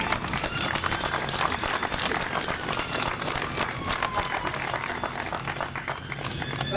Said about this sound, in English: So I'd really like to give people to give a big round of applause for Mike.